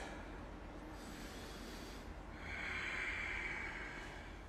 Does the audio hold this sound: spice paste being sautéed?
no